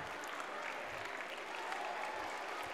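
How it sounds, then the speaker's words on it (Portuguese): Applause from schoolchildren and adults at a school reading-project opening in Brazil, a steady wash of clapping at moderate volume throughout, with faint voices underneath. "Palmas para Maria Luísa!"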